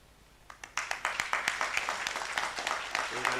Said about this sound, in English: We can clap for him as he comes.